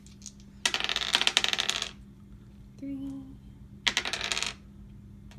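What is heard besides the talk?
dice thrown in the Tower of Madness board game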